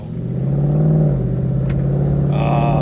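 A 2019 Ford Mustang GT Premium engine turns over and settles into a deep, loud, rumbling idle, with a brief click and a higher whir near the end.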